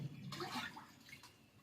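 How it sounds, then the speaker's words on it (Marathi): Water poured from a vessel into a cooking pot to heat for steaming idli, a short, soft gush of splashing that fades out quickly. "एका पातेल्यात आपल्याला हे आहे ना दोन तांबे पाणी घ्यायचं आहे"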